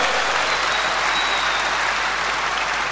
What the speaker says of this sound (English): If you are, you will clap your hands.